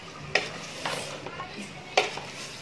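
Mutton masala with yogurt, salt and dry red chillies frying in a pan for khade masala gosht: a steady close sizzle broken by a few sharp scraping stirs of a spoon against the pan.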